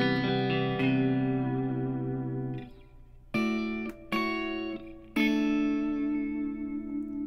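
Distorted electric guitar chords through a pitch shifter pedal, Bridge J45 amp with high watt IR and reverb, ring out with a shimmering, pitch-shifted doubling, one long sustained chord then three short stabs with reverb tails.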